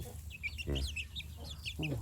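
Farm chickens clucking close by in a repeated, uneven series of short calls, with a few low thumps and faint background noise.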